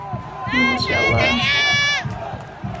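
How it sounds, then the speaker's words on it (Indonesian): Indonesian national football team supporters shout and cheer together, a loud crowd roar that swells in the middle and tapers off near the end. "fansnya Nathan nih teriak-teriak."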